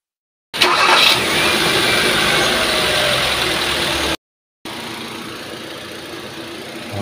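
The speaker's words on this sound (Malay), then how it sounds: "Okay guys, enjin saya dah hidupkan selama 5 minit." A 6-litre car engine starts and settles into a steady, loud idle up close, with a brief cut of silence before the running continues at a slightly lower level.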